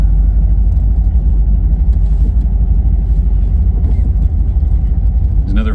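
A 1984 two-wheel drive Volkswagen Vanagon van with a rebuilt transaxle driving on slippery winter roads, a loud steady low engine and road rumble heard from inside, with talk over it.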